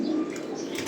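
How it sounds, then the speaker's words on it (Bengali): Stock pigeons at a racing-pigeon loft give a low, throaty coo, one brief close rolling call with faint chirps above. "এগুলো সবই স্টক পিজন"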